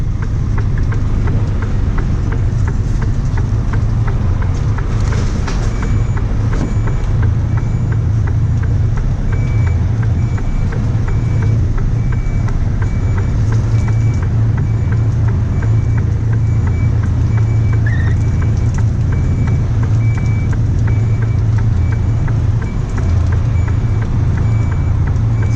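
A lorry manoeuvres and reverses near a busy main road, its steady close engine rumble running throughout while a faint, evenly repeating reversing beep sounds over it.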